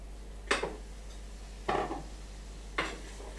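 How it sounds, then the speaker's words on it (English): A utensil stirs milk slowly into a sauce in a pan, giving three separate soft scraping clinks spaced about a second apart over a quiet background. "And you want to keep stirring the milk in."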